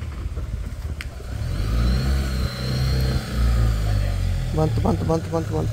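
A delivery vehicle loaded with concrete blocks reverses slowly, its engine rumbling low and steady up close with a beeping reverse alarm near the end, while people talk over it.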